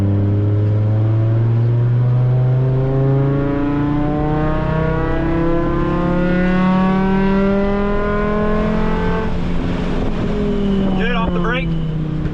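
A Mk5 Jetta's engine accelerating on a race track, heard from inside the car as a loud, steadily rising drone that climbs through the gears and drops briefly at each shift.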